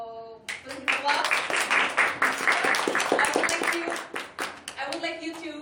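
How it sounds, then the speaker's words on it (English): A crowd at a Toastmasters club meeting claps in steady, dense applause lasting several seconds, with a voice briefly audible at the start and end. "So, please applause."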